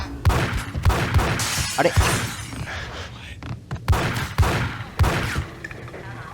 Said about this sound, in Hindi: इस गन की ये बात है कि फायर रेट बहुत जबरदस्त है। आहा फायर खोल दिया भाई मैंने।